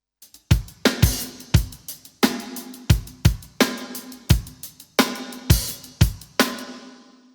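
Full drum mix on a bus with tape-simulation distortion and a low cut, recreating a legendary snare sound: a steady groove of loud, crunchy snare cracks and kicks with short decaying tails, close and alone.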